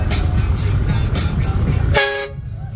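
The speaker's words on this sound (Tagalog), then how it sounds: "Sino bang bumusina?" A Yamaha Aerox scooter's horn gives a short, loud toot that ends abruptly after steady engine and street noise, with voices talking nearby.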